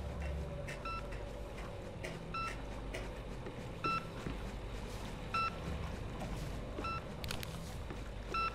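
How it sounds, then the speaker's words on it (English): Sensor beeping inside the INFRA video game: short, evenly spaced electronic beeps recur about every second and a half over a steady low ambient hum, moderately loud and without talk. "There's a beeping around here."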